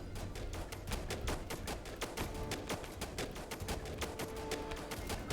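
Soldiers firing guns in the strategy game They Are Billions, a steady rapid crackle of many small shots at moderate volume, continuous throughout with no talk.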